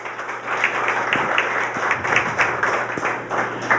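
An audience at a Korean public forum applauds to welcome two guests, a steady crowd of clapping hands that stays fairly loud and even throughout with no talk above it.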